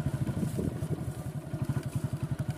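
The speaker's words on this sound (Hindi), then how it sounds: "मोटरसाइकिल तो आगे निकल गया तो।" A motorcycle engine throbs in a steady, even pulse of low chugging beats throughout, moderately faint, with a thin wash of background noise above it.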